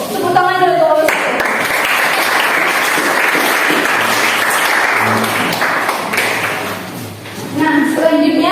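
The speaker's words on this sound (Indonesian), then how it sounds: "Tepuk tangan dulu kelompok 1." Students in a classroom applaud a group after its presentation: dense, sustained clapping from a room of people lasting several seconds, with voices audible at the start and end.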